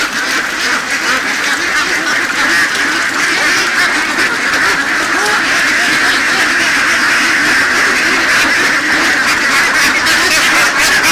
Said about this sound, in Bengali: এই যে হাঁসগুলোকে এখন খাবার দেওয়া হচ্ছে